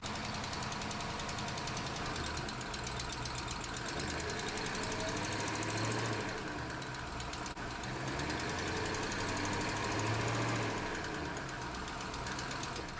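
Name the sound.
2012 Jeep Grand Cherokee 5.7 HEMI engine revving, rocking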